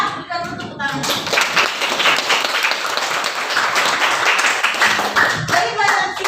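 Students in a classroom clap hard after a science lesson on electric current. The applause rises after a moment of voices and stays dense and loud, and speech returns near the end.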